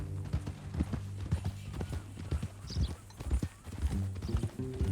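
Horse hooves clip-clop steadily in Red Dead Redemption 2, a ridden horse walking at a close, moderate level with faint musical and ambient sound beneath; no one speaks.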